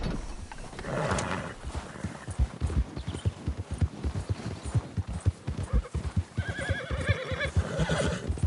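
A spooked horse in the video game Red Dead Redemption 2 neighs and whinnies loudly over a dense stretch of clip-clopping hooves and rustling, close and agitated, with a second shrill call near the end.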